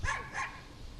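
Dog that has slipped out of its collar gives two sharp barks in quick succession, fairly close and moderately loud, followed by quieter outdoor background.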